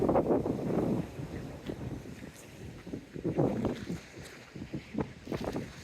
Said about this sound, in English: I didn't hear him over the wind.